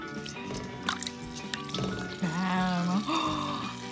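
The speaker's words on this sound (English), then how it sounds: "It's sizzling bubbles." Gel dropped into a bowl of water fizzes and bubbles with wet dripping, squishy sounds, heard close up while children's excited voices talk over it.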